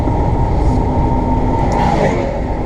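A train rumbles past close by in a steady, loud, continuous roar, with a brief squeal of metal near the end; no talk over it.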